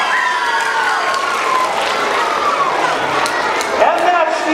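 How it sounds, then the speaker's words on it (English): Elementary school audience at an anti-bullying magic show clapping in a sustained burst of applause, with scattered children's shouts and cheers mixed in, filling the room throughout. "Give yourself another round of applause."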